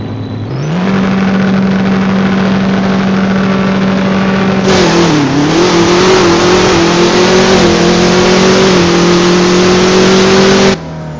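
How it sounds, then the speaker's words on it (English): A monster S10 truck engine with tuned gearing idles, then revs hard and accelerates, a loud, close, steady mid-pitched roar that climbs before cutting off. "watching it take off, get harder take off, get faster take off"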